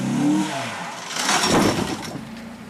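A car engine revs hard as the driver floors the gas while feathering the clutch on a driving course, a loud strained roar that rises, eases, then surges again with no talk.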